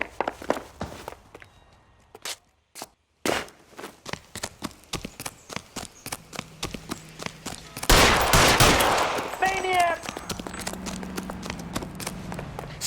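Gunshots in the 1940s detective game L.A. Noire: scattered sharp reports and clattering footsteps early on, then a loud close burst of rapid firing midway, followed by quieter shots and lingering noise.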